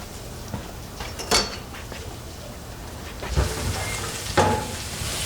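Pork carnitas sear in a hot pan, a steady close sizzle and fry with a few louder bursts as pieces are stirred or moved.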